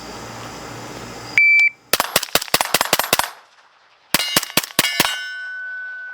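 Rounds from a suppressed 5.56 rifle strike steel targets in two rapid strings of sharp metallic clangs and pings, each string about a second long, with quiet gaps between. The muffled shots are faint under the ringing steel.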